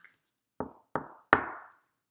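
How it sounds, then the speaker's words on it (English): Three sharp knocks on a wooden door, evenly spaced and growing slightly louder, each with a short resonant decay in a quiet room. "And who was to come to the door but the wolf? They heard a knock."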